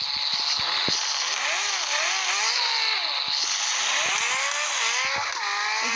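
A car engine in a video game revs repeatedly, high buzzy pitch sweeping up and down through gear changes with short clicks, loud and continuous, with no talk.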